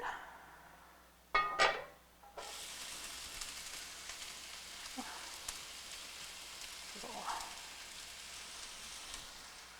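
Chopped onion sizzles in two to three tablespoons of olive oil, a faint steady hiss beginning after a couple of clatters and continuing evenly with small bumps of movement.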